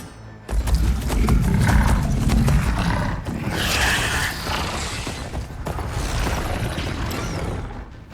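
Mechanical riding mounts on the move in a Horizon Forbidden West battle, with a loud, continuous rumble of creaking metal joints and growling, roar-like machine noise that surges and dips throughout.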